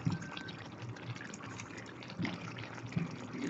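Ketchup poured into chicken afritada as it cooks, a soft wet glugging and splattering with a few thicker plops, close and moderately quiet, with no talking.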